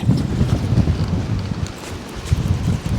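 Strong storm wind buffets the microphone while fishing, a constant low rumbling roar with gusty pulses, loud and close throughout.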